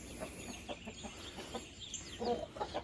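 Hen clucking inside a chicken coop, a series of soft, agitated clucks at close range with quieter fowl sounds and rustling around them.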